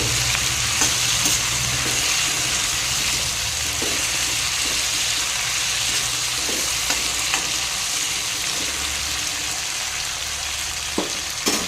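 Chukka kura greens fry in a pan for a paneer curry with a steady, close sizzle and scattered scraping and stirring clicks, and no talk over the constant hiss.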